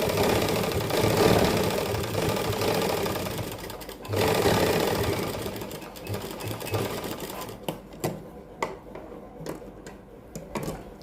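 Sewing machine stitching fabric for a sleeve design, running in sustained bursts with a steady rapid rhythm, pausing briefly around four seconds, then giving way to a few sharp clicks and short mechanical knocks near the end.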